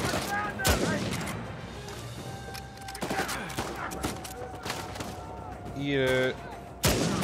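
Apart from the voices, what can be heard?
sniper rifle gunfire in video game Uncharted 4 multiplayer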